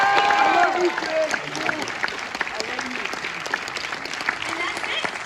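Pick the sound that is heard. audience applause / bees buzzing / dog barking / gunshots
audience applause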